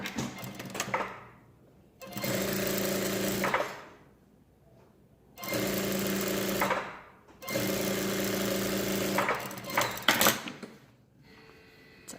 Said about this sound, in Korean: 요크 박아서 오바로 치겠습니다.